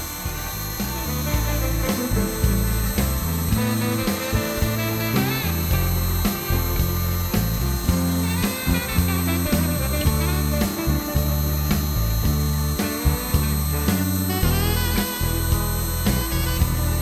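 A small CNC machine engraving a memorial plaque sounds throughout as a loud, steady mechanical whir with layered tones and repeated short rhythmic shifts as the cutter moves.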